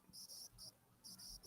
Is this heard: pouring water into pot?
no